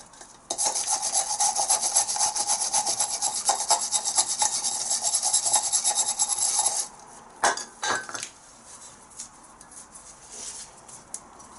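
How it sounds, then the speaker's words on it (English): Loose rust scraped off a car's front suspension hub carrier: rapid, harsh rasping strokes for several seconds, then a few separate scrapes and knocks, with no talk. "that's it pretty much rescaled now. All the loose rust taken off it."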